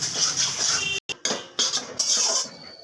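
Semolina halua being stirred steadily in a pan, a continuous scraping and clinking of spoon against metal with two brief pauses near the middle, close and fairly loud with no talking.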